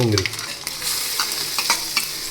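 Garlic and onion fry with hing in a pan, a continuous bright sizzle with crackling pops and scraping stirs throughout, close and fairly loud.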